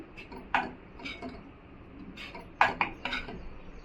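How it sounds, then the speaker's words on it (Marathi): A spoon stirs ground peanuts into a taro leaf curry in a pot, with sharp metallic clinks and scrapes at irregular intervals over soft background rustle. "चांगलं मिक्स करायचं"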